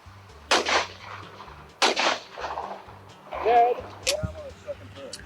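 Shotgun blasts at sporting clays targets crack out, two sharp loud reports about a second apart followed by further shots, with people talking and exclaiming around them outdoors.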